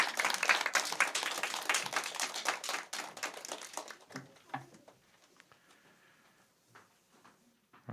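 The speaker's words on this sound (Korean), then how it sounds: "우리 축하의 박수를 해주시겠어요?" Congregation applause during a Sunday church service, dense clapping that thins out after a few seconds into scattered claps and then near quiet.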